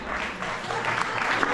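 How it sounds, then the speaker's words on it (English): Steady crowd applause fills the moment at a Republic Day commemoration event, a dense wash of clapping with a voice faintly audible underneath. "Big round of applause."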